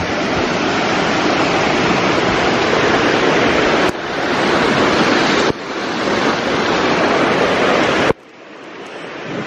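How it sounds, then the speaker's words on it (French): Loud, steady rush of flowing rivers and streams in the Mont-Dore massif fills the whole clip, broken by a few abrupt cuts, with no voices. "il y a des rivières, il y a des ruisseaux dans tous les sens"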